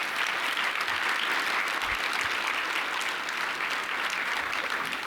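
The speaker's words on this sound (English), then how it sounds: "can we get another round of applause for Governor-elect Wes Moore?" Dense, sustained applause from a crowd at a legislative breakfast for Governor-elect Wes Moore, a continuous even roar of clapping throughout.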